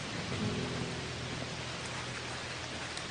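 Steady rain in the indie game Garden Life, a dense and even hiss of falling water with a low rumble underneath. It is continuous and enveloping with no voices.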